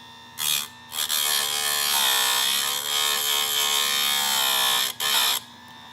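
An electric chainsaw chain sharpener grinds a badly damaged chain, giving a loud, high whining buzz that rises in short bursts and then holds for several seconds.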